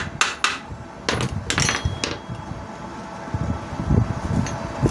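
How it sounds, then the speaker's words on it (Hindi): Light hammer taps on the parts of a water pump motor during repair, several sharp metallic knocks in an irregular rhythm over a steady background hum, close by. "ये नहीं खुल रहा तो हम इसमें हथौड़ी से हल्की सी चोट लगाएंगे"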